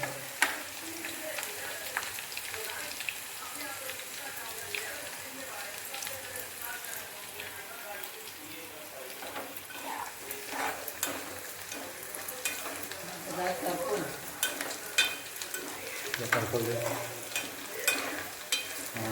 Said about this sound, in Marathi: थोडं हलवून घ्यायचं.